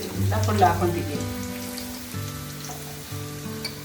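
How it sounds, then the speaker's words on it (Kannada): Chicken keema balls frying in hot oil give off a steady low sizzle and bubbling that runs throughout, with no voices over it. "ಸ್ವಲ್ಪ ಆಯಿಲ್ನ ಬಿಸಿ ಹಾಕೊಂಡು ಮಾಡಿಕೊಂಡ್ರೆ ಫುಲ್ಲೆಲ್ಲ ಅದೇ ಬೆಂದ್ಕೊಂಡು ಎಲ್ಲ ಫ್ರೈ ಆಗಿ"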